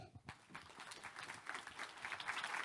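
Applause from a conference audience at an education research event, a dense steady patter of many hands clapping that builds slightly in intensity and continues throughout.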